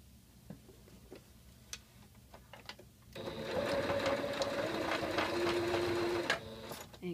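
A domestic sewing machine anchor-stitches new elastic into an AppleCheeks swim diaper, starting abruptly after a few faint clicks and running steadily for about three seconds with a whirring hum and rapid needle ticking before stopping.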